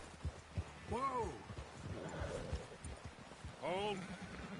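Horse hooves clip-clop and two distinct whinnies ring out in the Red Dead Redemption 2 video game, set against outdoor ambience with voices talking over the scene.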